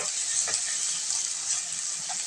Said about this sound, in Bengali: দিয়ে আবারও মশলাগুলোকে আমি ভালোভাবে কষিয়ে নেব